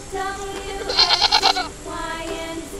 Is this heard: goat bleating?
yes